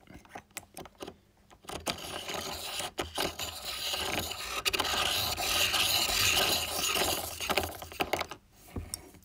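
A Koh-I-Noor lead pointer grinds a pencil lead to a point, giving a close, continuous gritty scraping rasp that swells and holds for several seconds, with a few clicks at the start and end.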